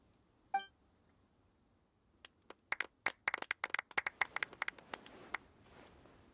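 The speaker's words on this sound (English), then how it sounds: "Let's give our champion Kaveh one last big round of applause." Scattered clapping for the champion at an award ceremony in Genshin Impact, starting with a few isolated claps and building into a quick run of sharp, fairly close claps that then thins out.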